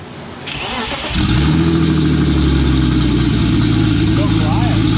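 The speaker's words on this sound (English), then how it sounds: "First start up? Yeah, the intercooler is not connected or anything, but we'll hear the sounds of the turbo on" A BMW Z-Kart with a turbo kit and unconnected intercooler fires up after a short crank, settling into a loud, steady rumbling idle close by, with a faint hiss over it and people talking briefly.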